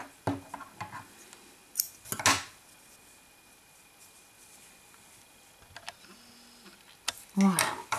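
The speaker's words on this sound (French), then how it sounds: "on coupe le fil" Scissors snip through crochet yarn while finishing a small crocheted butterfly, two crisp cuts separated by quiet handling noises, close to the mic.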